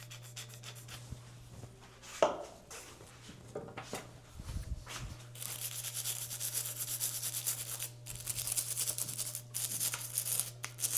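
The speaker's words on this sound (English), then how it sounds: "you can just wipe it right off the bike" Rust being wiped off the headset bolts of an All-City Cosmic Stallion bicycle with Simple Green cleaner and lubricant: close, continuous rubbing and scrubbing that grows busier and denser toward the end.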